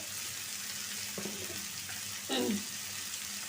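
Sliced bitter gourd (karela) fries plainly without turmeric in a pan, a steady moderate sizzle with a couple of soft stirring scrapes and a brief clatter partway through.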